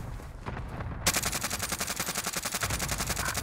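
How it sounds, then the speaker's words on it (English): Rapid automatic gunfire in the Call of Duty Warzone video game, a steady stream of close, loud shots starting a second in and rattling on continuously, with no talk over it. "Oh no, I'm getting shot from this other team."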